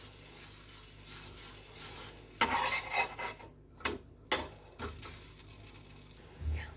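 Jaggery paratha cooking in ghee on a griddle, a low continuous sizzle broken by several scraping and pressing bursts from a spatula and a clink of metal, close-up, with no speech.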